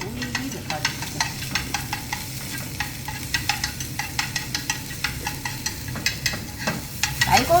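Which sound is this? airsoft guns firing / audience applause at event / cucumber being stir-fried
cucumber being stir-fried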